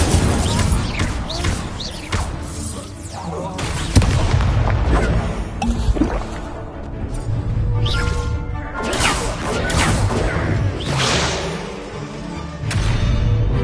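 Hogwarts Legacy combat with Incendio fire spells cast repeatedly, a continuous loud wash of booming blasts, crashes and whooshing impacts with no pause.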